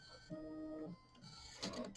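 A home embroidery machine stitching a Kimberbell mini quilt, giving a steady mechanical whirring and rapid needle chatter that pauses briefly before resuming, with no talk.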